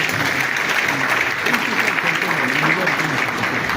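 Steady audience applause at a youth gathering, a close, continuous wash of clapping with a faint voice audible beneath it.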